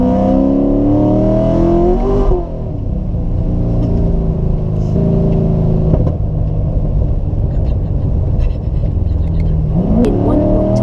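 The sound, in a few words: Corvette engine revving as the tyres lose traction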